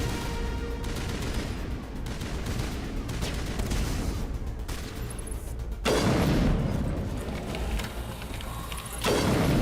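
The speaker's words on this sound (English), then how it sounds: "What are you shooting?" Mass Effect firefight: dense, continuous volleys of weapon fire with overlapping shots and booms, swelling louder for a few seconds near the end, with no speech.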